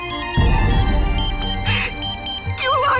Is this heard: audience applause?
no